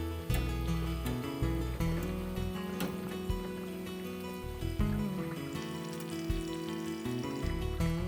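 Mekike fried dough frying in hot oil, a steady soft sizzle running throughout, faint and partly masked by background music.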